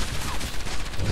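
Rapid bursts of gunfire in the video game Enslaved: Odyssey to the West crackle densely over a short moment, loud and close, like a quick exchange of shots.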